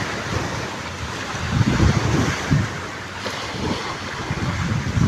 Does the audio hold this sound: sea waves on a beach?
yes